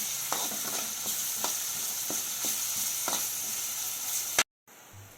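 Ginger-garlic paste sizzles in a pan for a mutton fry, a steady, close frying hiss with regular scraping strokes of a stirring spoon, before the sound cuts off abruptly near the end, with no talking.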